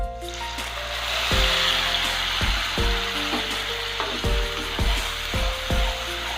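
Onions and spice masala fry in a pan, a steady loud sizzle with repeated scraping knocks from stirring roughly every second, close and with no voices.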